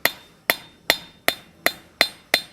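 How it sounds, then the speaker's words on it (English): Seven sharp, ringing hammer blows on hot iron at an anvil while forging a bevel on a simple latch, struck at a steady rhythm about every 0.4 seconds, close and clear with no talking. "And we're just going to keep hammering that bevel."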